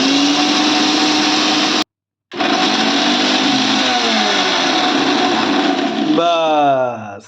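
Kitchen blender grinding coriander leaves and amla into chutney with a splash of water: a loud, steady motor whir that cuts out briefly, restarts and winds down at the end.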